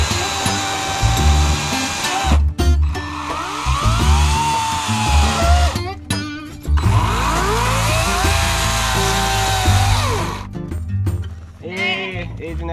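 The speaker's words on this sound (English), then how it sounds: "this cherry tree that fell right here, I'm cutting it up because we're gonna use it for firewood" Chainsaw cutting up a fallen dry cherry tree for firewood outdoors, the engine loud and close, revving in long sustained bursts with brief pauses between cuts.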